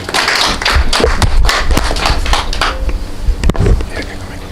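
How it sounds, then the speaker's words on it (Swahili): A crowd claps at a football federation presidential campaign launch. The claps are brisk and uneven, with voices talking over them, and the sound tapers off after a few seconds. "Makofi kwake."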